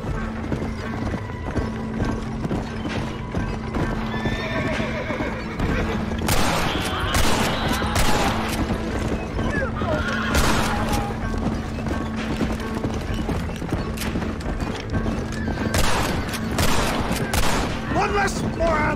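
A single horse draws a carriage in the western game Red Dead Redemption, steady clip-clop hoofbeats with a neigh, bursts of gunfire and rattling wheels mixed in, continuing for nearly twenty seconds.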